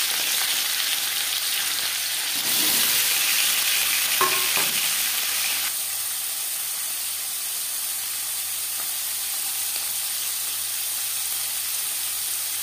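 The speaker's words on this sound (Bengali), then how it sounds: "পনির ভেজে নেব" Paneer frying in a pan, a bright continuous hissing sizzle that surges loudly for a few seconds midway with a couple of clinks, then settles into a steady softer fry, close and without voices.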